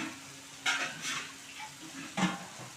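Chili powder sizzles quietly in hot oil in a pan with tomatoes for a ridge gourd and moong dal curry, with a few distinct scraping stirs of a spoon against the pan over a steady soft frying hiss, no talk.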